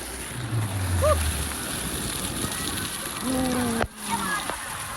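Water splashes and sloshes steadily in a water park pool, a continuous close wash of churning water with brief voices in the background.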